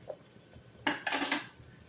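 Metal lid set onto a cooking pot while making alu vadi, a quick clattering clink followed by a few short metallic rattles as it settles, close and brief in a quiet kitchen.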